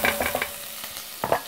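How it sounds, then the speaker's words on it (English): Food is sautéed in a pan while cooking curry: a brief, close sizzle with a few quick scraping stirs, then a final stir near the end. "Let's saute this just for a couple of seconds and it should come up."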